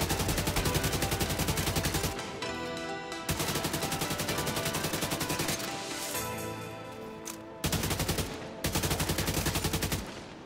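Minigun fire in The Division 2 roars in long, dense automatic bursts, loud and close, broken by short pauses between strings of rapid shots.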